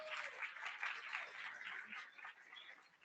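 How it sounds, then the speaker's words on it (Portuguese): An audience at a Sebrae event on entrepreneurship claps throughout, a faint, thin and distant patter of applause with a slightly muffled, band-limited tone. "uma salva de palmas para o nosso dia"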